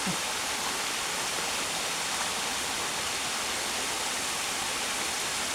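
Water pours steadily down onto a person's back during an outdoor bath, making a dense, continuous rushing splash that stays close and loud with no pauses.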